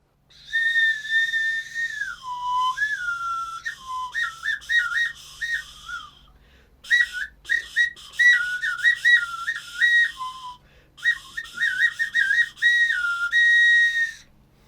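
A high wooden whistle, a folk instrument, chirps and trills in quick bird-like bursts, warbling phrases with short pauses, loud and close with no talking.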